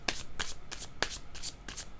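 Cards are shuffled and drawn during a tarot-style reading, crisp riffling bursts repeating roughly every third of a second, close and quiet with no talk.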